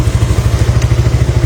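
A Yamaha Mio Sporty motorcycle engine runs steadily at idle, close up and loud, with an even, rapid pulsing rhythm and some light mechanical clatter.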